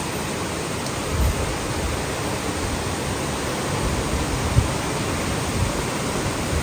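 Heavy rain pouring at the seaside in Malvan during a thunderstorm: a dense, steady, broadband hiss that holds evenly throughout, with a couple of faint thumps and no voices.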